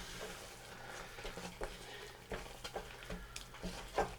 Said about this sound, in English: a good tablespoon, maybe a bit more, of grated parmesan cheese. and stir that into mix